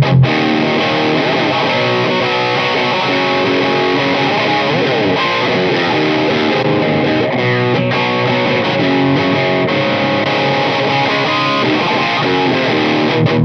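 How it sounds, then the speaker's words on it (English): Cheap guitar drive pedal pushing an already overdriven amp channel, a dense, saturated electric guitar tone played continuously and loud for the whole stretch with no talking. "by boosting an already overdriven channel like this"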